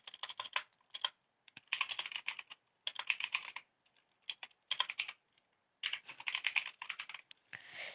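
HTML tags being typed on a computer keyboard, quiet close bursts of rapid key clicks separated by short pauses, with no voices.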